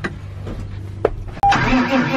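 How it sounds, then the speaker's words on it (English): A white Peterbilt truck rumbles with a low engine drone, then a sudden louder surge of engine noise and a brief whine as it approaches close by, outdoors on a farm. "I hear a truck."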